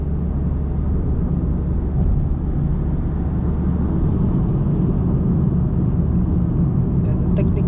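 A 2021 Honda City with manual transmission cruises along a road, its engine holding a steady low rumble with constant road noise, loud and continuous throughout with no talk.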